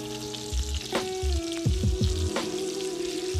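Koftas fry in hot oil for a curry, a steady bright sizzle running throughout with a few low knocks and scrapes as they are turned, close and moderately loud with no talking.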